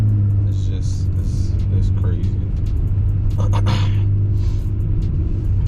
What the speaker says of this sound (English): like the sounds I get from these turbos